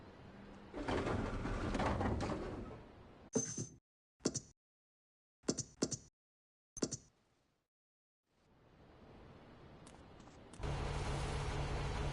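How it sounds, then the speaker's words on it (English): Pigeons in Grand Theft Auto 3 give short cooing bursts in a quiet stretch, several brief calls separated by silence, framed by louder ambient game noise before and after. "Pigeons."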